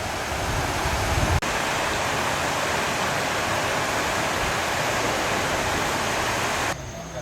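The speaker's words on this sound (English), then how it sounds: "I think it's quite relaxing listening to the waves, or in this case the little waterfalls." Steady rushing water from small cascades fills the whole clip, a constant broadband splash with a brief click near the start.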